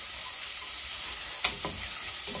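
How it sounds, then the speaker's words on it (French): Finely chopped shallots sweat in butter and oil in a casserole with a soft, continuous sizzle, and a few light stirring scrapes punctuate it. "je vais venir y faire suer mes échalotes que j'ai hachées finement."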